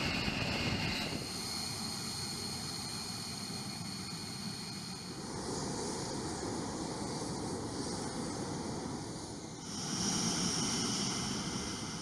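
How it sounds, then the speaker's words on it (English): A loud continuous B-1 Lancer jet engine roar on full afterburner, with a sustained rushing, hissing texture that surges slightly stronger near the end. "The full afterburner works by accelerating the exhaust gas of the plane to a higher velocity"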